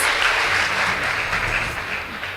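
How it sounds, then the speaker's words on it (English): Audience at a school competition between Moi Girls Eldoret and Umoja Secondary gives a round of applause, continuous clapping from a crowd that stays fairly even before easing slightly at the end. "Please give them a big round of applause."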